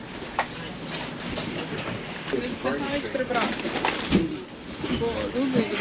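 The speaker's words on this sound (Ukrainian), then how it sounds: "Ось, чудовий швейцарський потяг." A Swiss train bound for Lucerne rolls in at a station with a low rumble and faint clatter, while birds call nearby and people talk over it.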